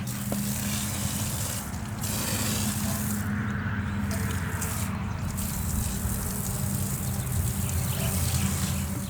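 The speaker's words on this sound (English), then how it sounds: "Let's put our tire tool on and spray on some foam." A Carwash Cannon foam kit with its tire tool clipped on sprays foam onto a car tire, giving a steady, close hiss of pressurized water and spray that runs for the whole stretch with no talk over it.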